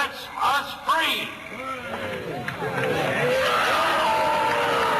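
At a midsummer festival, a dense crowd cheers and shouts as an effigy burns, with many excited voices rising and overlapping into a loud, continuous roar.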